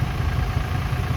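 A Ford 4000 tractor with a Wilson cab runs at a vintage steam show, its engine idling with a steady low rumble, close and unbroken.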